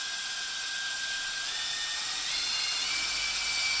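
An electric drill fitted with an XL28 drill bit starting a hole in metal, a steady high whine whose pitch steps up partway through, loud and continuous with no talk.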